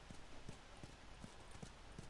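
Horse hooves clip-clopping in The Last of Us video game, a faint, steady rhythmic trot of hoofbeats about every third of a second, heard alone and quiet.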